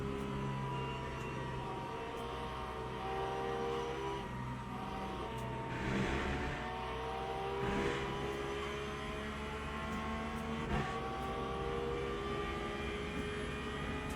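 A race car on its in-lap at the 6 Hours of Le Mans, approaching the Porsche curves behind a Corvette toward the pit lane, its engine a steady, sustained drone heard from onboard, without talk.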